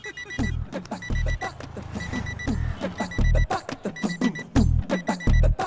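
An alarm sounds in repeated short bursts of electronic beeping in a quick, regular pattern, close and loud, with low thumping pulses between the beeps.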